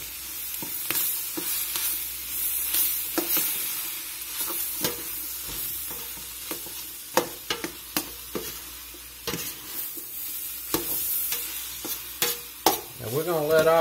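Chili powder, smoky chipotle powder and other seasonings sizzle in a pot under a soft continuous hiss, with repeated scraping stirs and utensil knocks scattered throughout and no talking.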